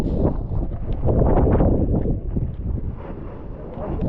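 Strong wind at Mahabaleshwar, Maharashtra roars and buffets continuously, a heavy low rumble with gusty surges throughout.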